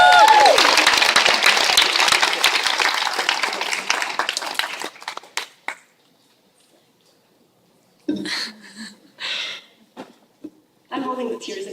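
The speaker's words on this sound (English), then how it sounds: "Let's give Becky a big round of applause." At a community dinner, guests clap loudly for a woman receiving a gift, the applause fading after several seconds into a pause before voices and scattered sounds return.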